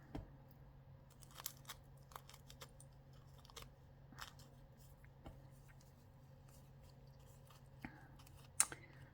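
Scissors make a few quiet, sparse snips with small clicks, close by in an otherwise hushed room, with no talking.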